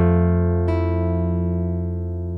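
A single sustained guitar chord rings out with a soft pluck partway through, part of a film theme reworked as a slow lullaby, played alone and close with a long, gently decaying tail.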